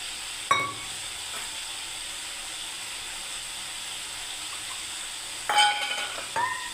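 Spice paste for an eggplant curry fries steadily in a pan with a continuous close sizzle, broken by a louder burst and some stirring clatter toward the end.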